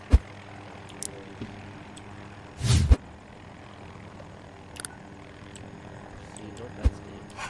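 A helicopter in the Battlefield 2042 video game hums in a low continuous drone beneath a person talking, with a few sharp game sounds and a short loud burst partway through.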